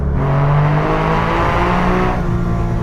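Air-cooled 3.9-litre, 390 hp engine of a Porsche 964 RS, loud and close, with sustained revving and shifting engine tones that rise and fall continuously with no speech.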